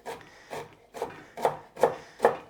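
A knife chops through broccoli stems on a board, six evenly spaced, increasingly firm thunks about half a second apart, close and clear with no talking.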